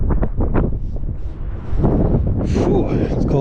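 Cold wind gusts buffet the microphone outdoors beside a van in San Francisco, a loud continuous rumble with rustling that rises and swells near the end, while a person talks.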